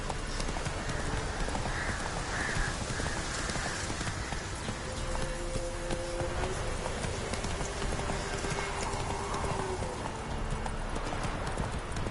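Roach the horse galloping in The Witcher 3: Wild Hunt, a steady rapid drumming of hooves clip-clopping without pause, close and continuous, with a brief whinny partway through.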